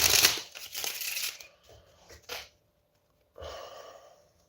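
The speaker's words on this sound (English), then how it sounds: "Obviously there's the basic one, like some call it the bridge shuffle" A deck of playing cards riffled in a bridge shuffle, with a burst of dense rapid ruffling at the start, then further rustles and shorter riffles, a pause, and a final softer riffle, close and alone without talk.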